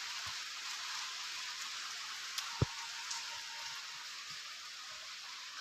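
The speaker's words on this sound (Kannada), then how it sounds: "ಇದ್ದಕ್ಕಿದ್ದಂಗೆ ಮಳೆ ಬರ್ತಾಯಿದೆ" Sudden rain falls in a steady, soft hiss, with a few isolated drips and taps landing nearby on a surface.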